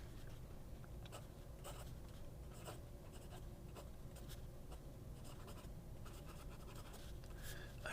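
A platinum fountain pen nib scratches softly across paper in short strokes and taps, quiet and close against a low steady background hum.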